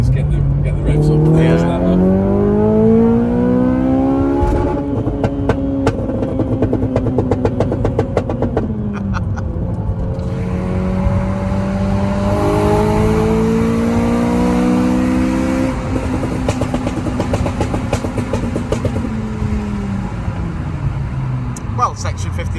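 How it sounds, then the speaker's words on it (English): A Honda Civic Type R FN2 engine revs repeatedly during a test drive, rising and falling in pitch through several climbing pulls and gear changes, loud and close, with occasional faint voices underneath. "That's what I meant by just get the revs up."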